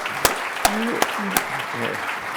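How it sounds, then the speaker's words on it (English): A conference audience claps in a steady round, with a few louder hand strikes standing out, while a voice talks over the applause throughout. "Everyone, please help me give them a round of applause."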